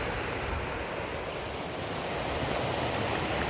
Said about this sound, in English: Nice white water, narrow river coming through, Savage River.